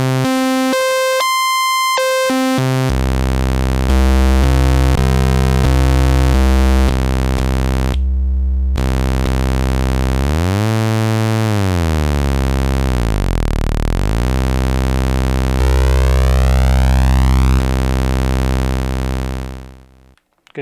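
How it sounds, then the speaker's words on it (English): The second and third oscillators of a restored Minimoog synthesizer drone loudly and steadily, the pitch stepping between notes and then sweeping down and back up, before the tone cuts off at the end. "So here's oscillator 2, here's oscillator 3"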